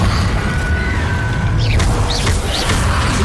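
A heavy Confringo blasting-curse explosion in Hogwarts Legacy, a loud sustained booming rumble with faint whooshing streaks passing through it.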